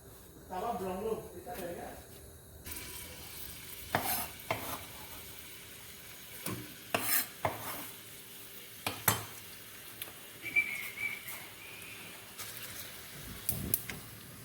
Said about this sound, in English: make sure you saute the onions real good.